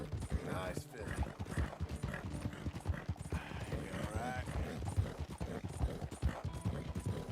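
Horses gallop in Red Dead Redemption, a White Arabian racing a reverse dapple roan Nokota, their rapid hoofbeats drumming steadily beneath continuous commentary from someone talking throughout.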